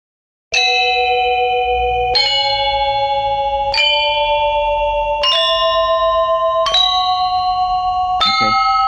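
Balinese gamelan metallophones tuned to two different scales struck together, six clear bell-like notes rising one after another, each paired tone ringing and beating against the other with a sustained metallic shimmer.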